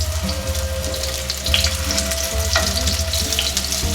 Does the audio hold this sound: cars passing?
no